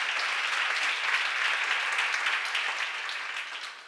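A church congregation at a seminar on Romans claps together in a soft, even wash of many hands, steady throughout and tapering slightly at the end.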